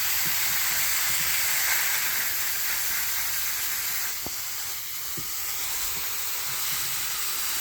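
A steady broadband hiss of water spraying over pepper and squash plants in a small backyard vegetable garden, continuous and fairly loud throughout, with a few faint knocks beneath.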